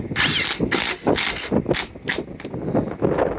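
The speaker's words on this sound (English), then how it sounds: "Put the screw in." A screw driven into a small punched hole in sheet metal gives a quick series of ratcheting, grinding bursts, loud and close, with brief pauses between them and no talk.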